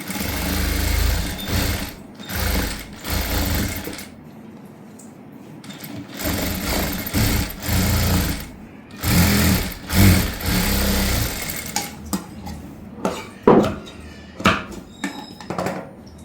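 A sewing machine runs in repeated bursts of rapid stitching on a prince-cut blouse, stopping and restarting with short pauses between runs, close and clear with no talk.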